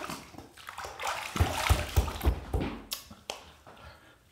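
Water splashes and sloshes close by in a rinse after a wet shave with Proraso Red, with a run of rhythmic splashes mid-way and softer trickling around them.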